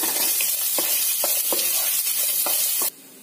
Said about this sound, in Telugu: ఇందులోకి ఉల్లిపాయ వేసుకొని బాగా ఫ్రై చేసుకోవాలి.